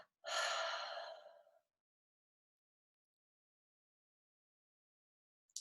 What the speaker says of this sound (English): I'm into the Tantra exhale today,